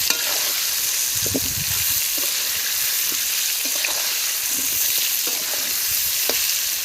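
Potatoes fry in hot oil in a kadai, giving a constant loud sizzle with occasional soft stirring knocks over it and no voices.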